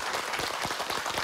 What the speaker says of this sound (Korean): 엄청 환호성을 받고